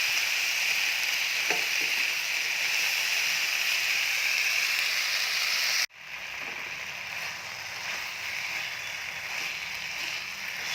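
Corn and capsicum masala with salt, cumin powder, coriander powder and garam masala sizzling in a pan over medium heat, a steady close frying hiss that briefly drops out midway and then resumes more softly.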